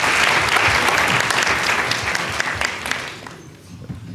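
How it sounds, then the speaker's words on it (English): Audience applause at a Youth Day debate event at the Apartheid Museum, a dense, sustained round of clapping from a sizable crowd that holds steady then thins and fades toward the end. "Can we give her a round of applause"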